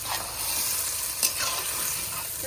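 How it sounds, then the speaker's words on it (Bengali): Chicken pieces stirred and fried in a pan for a red chicken curry, a steady loud sizzle with scraping stirs and one sharp clatter midway, no talking. "যতক্ষণ মাংসের গা থেকে তেল না বেরোবে ততক্ষণ আমাকে এভাবে নেড়ে চেড়ে কষাতে হবে"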